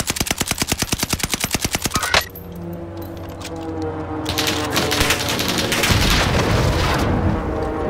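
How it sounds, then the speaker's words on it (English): Rapid automatic gunfire rattles steadily for about two seconds in Call of Duty Warzone, then gives way to a rumbling wash of air strike explosions and scattered blasts that swell louder toward the end. "Random air strike, okay."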